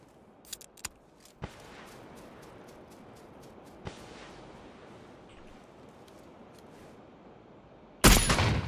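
Sparse, distant gunshots in PUBG on the Sanhok map, a few sharp isolated cracks over quiet ambience, then a sudden loud burst at the very end.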